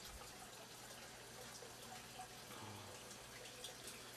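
Water runs through pipes and open valves into four tanks of an aquarium sump and filtration setup, making a faint, steady trickling flow with no talking.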